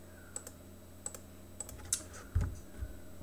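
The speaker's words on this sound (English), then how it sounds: "Let's just backspace our previous commands, do a listing, please run the fix upload file sizes script," Commands are typed on a computer keyboard: a handful of separate, crisp key clicks spaced unevenly over a few seconds, with a couple of heavier thumps near the end, quiet and close, no speech.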